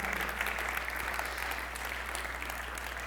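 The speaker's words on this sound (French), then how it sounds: "vous pouvez applaudir le Seigneur" Church congregation applauding during a French-language service, soft continuous clapping over a steady low hum from the room.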